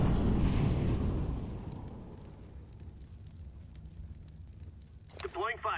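An incendiary grenade going off in CS:GO, a loud close burst that swells into a roaring fire hiss and slowly fades, followed by a short voiced radio callout near the end.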